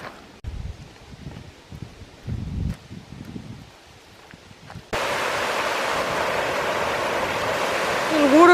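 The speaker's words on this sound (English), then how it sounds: "waterfall. This is Kerry Brook." Steady broadband rush of a waterfall on a brook starts abruptly partway through and continues loudly, after quieter footsteps and rustling on a hillside trail.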